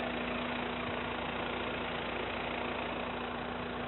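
A 2017 BMW X1 engine idles at a steady, even hum with a faint low drone, heard close up with no voices.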